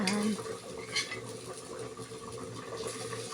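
Torta (omelette) mixture being stirred in a pan, with soft scraping and light clinks of utensil on cookware, low and close, under a faint voice.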